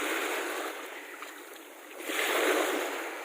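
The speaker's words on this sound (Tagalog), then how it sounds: "Pagka naririnig nyo yung dito, yung hampas ng alon" Ocean waves wash in a steady broadband roar, swelling louder toward the end as a wave breaks nearby.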